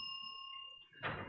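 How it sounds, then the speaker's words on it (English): A hand bell rung as a time signal during a student finals presentation gives a single clear, sustained metallic ring that fades over about a second before a soft rustle. "I'll ring a bell like this."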